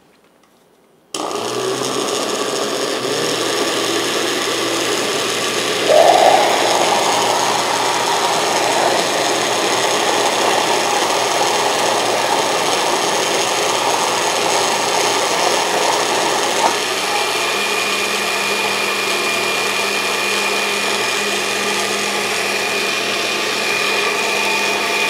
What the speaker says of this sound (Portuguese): bati todos os ingredientes no liquidificador